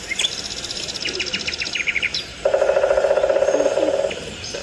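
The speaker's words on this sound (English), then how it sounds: "Sound like a woodpecker out there." A woodpecker calling outdoors near an open-air cooking spot, giving bright rapid chirps followed by a longer, steady trilling run, fairly clear against a soft background hiss.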